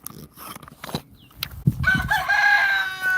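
A rooster crows loudly and nearby in a chicken pen after some scattered clucks and rustling, the crow drawn out over the last second or so.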